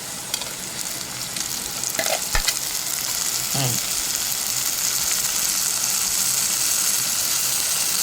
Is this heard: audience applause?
no